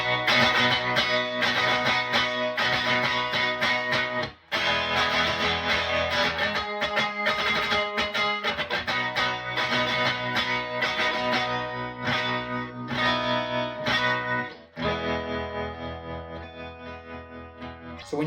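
Electric guitar playing octave chords from a song, two strings ringing with effects, distortion and chorus, sounding as a steady, full, sustained passage that thins and quiets toward the end.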